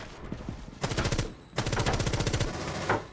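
Rapid automatic gunfire fired through a one-time scope in the video game Rainbow Six Siege, two sustained bursts of quick, evenly spaced shots separated by a short pause, loud and close.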